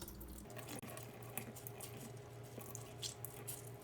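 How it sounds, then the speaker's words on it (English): Water drained from an opened can of salmon into a kitchen sink, a steady close running and splashing stream with small drips throughout. "you're going to take it over to your sink and drain it."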